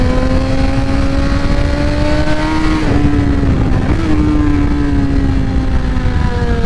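A 2024 BMW M1000XR motorcycle engine held at high revs around 8,000 RPM on a dyno, a loud, steady, sustained drone with a slight pitch dip midway and no talk.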